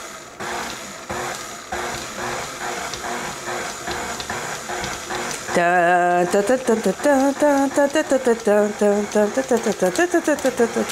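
An electric mixer whirs in repeated pulsing bursts as its speed is switched between off and stir, mixing powdered sugar for red velvet cake, with a person talking over it in the second half.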